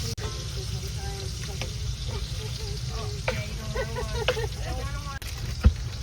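Butter melting into leftover sausage grease in a frying pan, a steady sizzle and crackle with occasional stirring scrapes, heard close up at an outdoor old engine show.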